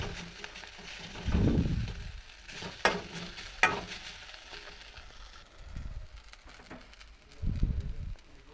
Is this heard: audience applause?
no